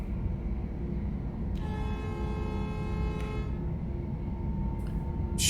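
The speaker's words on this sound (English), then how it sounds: "So you can honk them from quite a distance away." A locomotive in the Train Life railway simulator sounds a long, steady horn blast over constant loud engine and track rumble, with a brief second toot near the end.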